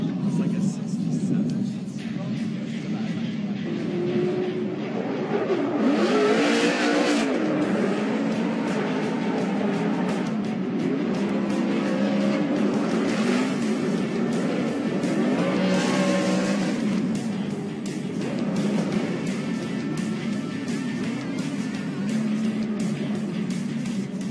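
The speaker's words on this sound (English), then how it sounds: "Monster Energy Nitto Tire Mustang RTR" A Ford Mustang RTR drift car at Formula Drift Long Beach during qualifying, its engine roaring steadily throughout with rising surges, under a commentator's voice and crowd noise.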